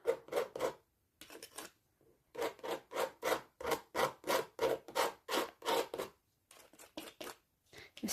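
Rhythmic scraping of drying acrylic paint across an old painting, a run of about a dozen close, evenly paced rasping strokes with short pauses between groups and no talking.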